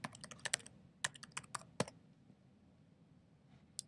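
Fingers typing on a computer keyboard to enter sign-in details, a quick burst of close clicky keystrokes for about two seconds, then a pause and one last key tap.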